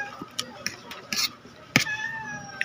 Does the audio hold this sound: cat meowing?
yes